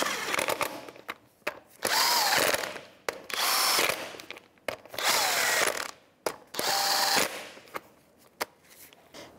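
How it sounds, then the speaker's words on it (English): A power tool tightens lug nuts with a 19 mm socket on a 2002-2005 Ford Explorer wheel, four loud buzzing bursts with short pauses and clicks between them. "We'll just bottom them out, 19 millimeter socket, do it in a star pattern"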